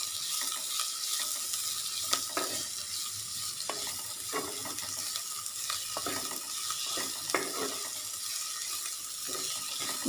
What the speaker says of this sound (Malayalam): സവാള ഒന്ന് വെന്ത് വരുന്നത് വരെ ഒന്ന് വഴറ്റി കൊടുക്കണം